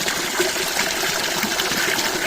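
Spring water runs steadily at a collection point in the Kharkiv region, where people fill containers; a continuous, fairly close trickling rush with no talk.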